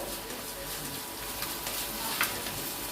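Garlic and ginger paste sautéing in a pan for chicken malai, giving a steady, close sizzle with faint scraping throughout and one brief clatter near the end, with no talk.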